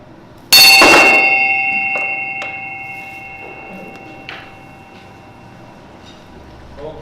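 A single loud bell strike rings out and decays slowly over several seconds, with a few faint lighter taps afterward.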